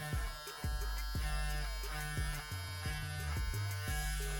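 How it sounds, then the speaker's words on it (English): A MonsterClippers hair clipper fitted with a hybrid blade runs with a steady, loud electric buzz and hum. It is close and continuous for a few seconds, with faint rhythmic ticks over the drone and no speech. "this is a powerful clipper"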